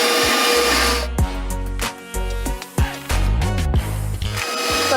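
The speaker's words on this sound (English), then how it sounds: "we're gonna pour it into our stand mixer, and we're using a whisk attachment" Stand mixer with a whisk attachment whipping Swiss meringue, its motor humming loudly and steadily with changes in pitch, broken by brief pauses and clattering knocks.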